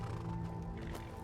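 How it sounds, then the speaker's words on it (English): A horse in the video game Skyrim whinnies over the steady clatter of hooves, with a constant background hum throughout. "That's a big horse."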